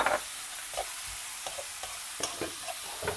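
Minced beef or chicken keema for dhaba-style Peshawari aloo qeema frying in a pan, a steady broadband sizzle with repeated scraping stirs every half second or so, close and moderately loud, no talking.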